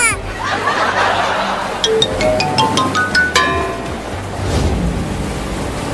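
Rushing, surging floodwater noise fills the scene while a bright run of tones climbs steadily upward, then the water roar swells again.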